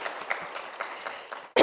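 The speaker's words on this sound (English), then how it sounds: "So I'd like to give them a round of applause." Audience applause at a youth mental health symposium, a steady patter of clapping heard at moderate distance that ends abruptly.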